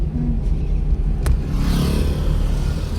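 A car pulls away in first gear on an uphill start, its engine giving a low, steady rumble that rises slightly as it moves off, close and moderately loud, with a brief click partway through.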